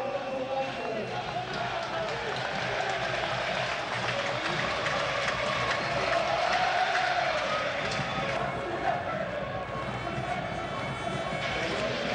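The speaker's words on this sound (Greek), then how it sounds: "Χειροκρότημα ζεστό από τους φίλους της Ομόνιας." Omonia football fans applaud warmly in a stadium as the referees walk onto the pitch, a broad steady wash of clapping and crowd noise under a commentator's voice.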